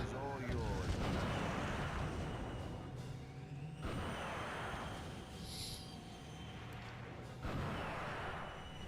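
Rocket launcher blasts from the video game 007: Everything or Nothing come as three heavy, rumbling explosions spaced a few seconds apart, each a loud burst that fades into a roaring wash, with game noise underneath.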